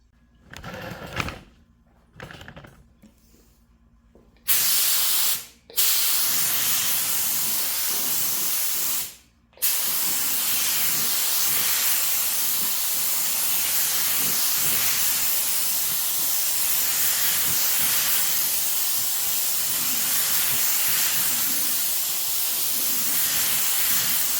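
A spray gun hisses steadily as it lays down a first coat of ghost pearl paint over black, with a few brief stops and starts early on, then a continuous close-up spray lasting most of the stretch.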